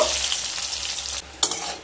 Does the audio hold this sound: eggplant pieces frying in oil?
yes